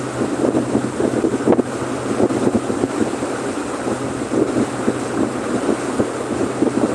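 Strong wind buffeting the microphone on a boat out on the water, a loud continuous rumbling gust with waves and hull noise underneath, no talking.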